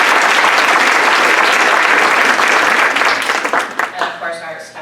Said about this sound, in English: Can I please have a round of applause for Carly?